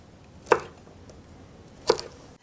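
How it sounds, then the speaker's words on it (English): A knife cutting asparagus into sections on a cutting board: two sharp, close chops about a second and a half apart over a quiet background. "split the asparagus in half, lengthwise, and cut it into sections"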